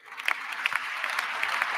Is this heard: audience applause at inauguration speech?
yes